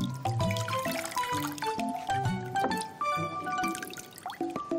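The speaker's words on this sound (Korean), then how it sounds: "물기를 좀 빼야 되니까 한 번만 헹궈서요" Dried tofu sheets rinsed under running water in a home kitchen, a steady close pour and splash with small clinks, continuing alone without talk.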